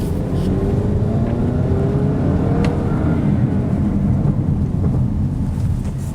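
A 2019 Audi Q3 SUV with a 228-horsepower engine and 8-speed transmission accelerating, heard from inside as a steady, dense engine and road roar with some wind noise, loud and continuous.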